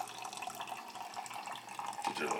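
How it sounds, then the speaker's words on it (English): A small home coffee maker brews quietly, its water trickling and gurgling in a steady faint stream with light dripping throughout. "sit back and wait for your Starbucks quality coffee"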